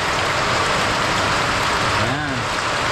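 Very heavy rain pouring down in a steady, dense roar without a break, with a voice briefly audible beneath it.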